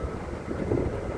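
Strong wind buffeting the microphone outdoors while waiting for a free shuttle bus, a steady low rumbling roar with no break and no other sounds.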